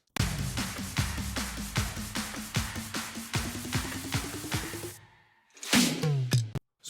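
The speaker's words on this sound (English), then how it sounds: "Now the build-up drums sound like this." Build-up drums in an EDM-rock track: a long Cashmere fill with a looped pattern and a kick, hits quickening into a rising roll for about five seconds, then a brief gap and a few loud closing hits.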